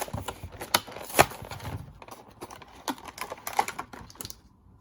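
Bakugan Battle Planet Aurelus Pyravian Ultra toy box being opened up close, a run of sharp crinkling, tearing and clicking bursts of cardboard and plastic with a few louder snaps, alone with no talk.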